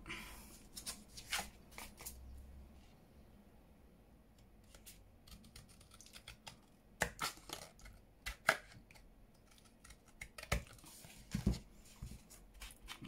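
Scissors cut down a paper card backed on cereal box cardboard, with irregular snips and crisp paper rustles, close and fairly quiet with pauses between cuts.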